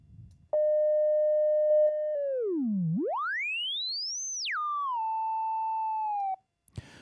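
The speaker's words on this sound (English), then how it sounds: "if I turn up resonance all the way, the filter will produce a sine wave" A pure electronic sine tone from an Access Virus synth's self-oscillating filter holds steady, dips low, sweeps up high, then falls and settles into a steady mid tone before cutting off; no voices.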